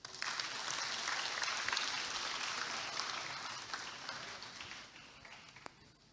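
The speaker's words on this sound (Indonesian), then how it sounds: "kita berikan tepuk tangan yang paling meriah untuk Bro David Noah" An audience applauds after a talk at a stock investing festival in Indonesia. The clapping is full and lively at first, then gradually thins and fades toward the end.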